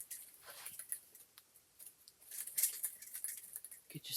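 Scissors snip through deco mesh for a Christmas grapevine wreath, a string of short crisp cuts and rustles of the mesh, close by and fairly quiet, with a few brief irregular pauses.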